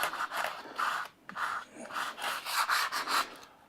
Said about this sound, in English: after a couple of minutes of just rubbing this with silver foil, you can see most of the surface rust has now disappeared